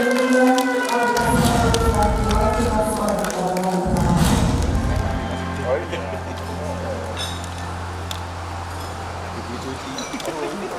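An electronic siren wails at an official smart-city app launch ceremony in Malang, its rising and falling tone loud and sustained, overlapping speech, then settling into a lower steady drone amid crowd noise.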